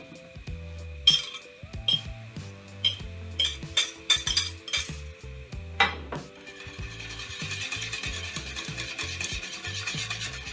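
A whisk stirs butterkase cheese into a creamy béchamel sauce in a pot, with rhythmic metal clinks and scraping strokes close by, giving way to a steady wet stirring hiss.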